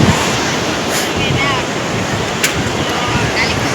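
Sea waves roll in at Tannirbhavi beach in Mangalore around sunset, a steady, loud, broadband surf roar with wind buffeting the microphone throughout.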